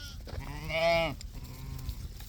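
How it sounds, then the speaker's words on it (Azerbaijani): A sheep gives one clear, wavering bleat at close range, followed by a shorter, fainter lamb's bleat over quiet farmyard background of a ewe-and-lamb flock. "Bax bunlar hamısı qoyunun balalarıdır"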